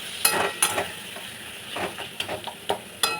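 Spice paste of onion, ginger and garlic fries for chicken curry with a steady low sizzle, broken by several sharp stirring scrapes in an uneven rhythm, close up with no talk.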